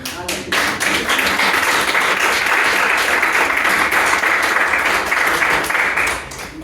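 Audience applause at a Spanish talk event, a dense steady burst of many hands clapping that rises quickly, holds loudly for several seconds, then tapers off, with no speech over it.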